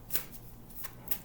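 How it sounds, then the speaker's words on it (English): A deck of tarot cards being shuffled by hand indoors, a few quick riffling bursts close by with brief pauses between them. "I'm gonna stop shuffling."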